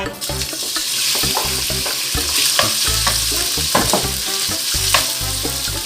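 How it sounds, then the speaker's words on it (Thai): Sliced pork belly stir-fries in two spoons of oil in a pan, loud continuous sizzling and spattering with rhythmic scraping and stirring strokes throughout. "ผัดจนกระทั่งหมูมีสีเหลืองอ่อน"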